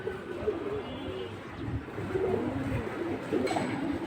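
Soft pigeon cooing repeats in low murmuring phrases over a quiet background at a pigeon market, several birds close together.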